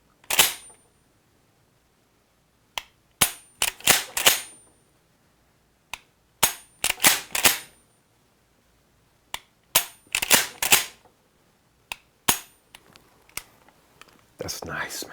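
A Mossberg 590R pump-action shotgun is cycled repeatedly, making crisp sharp clacks of the slide racking back and forward in separated groups with quiet gaps, close and loud.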